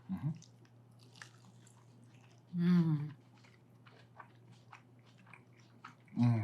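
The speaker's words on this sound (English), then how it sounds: "That nice crunch too." Close, loud crunchy bites into a breaded Kurobuta pork tonkatsu from a bento served over cabbage: a crisp bite at the start, a bigger crunch near the middle and another at the end, with soft chewing between.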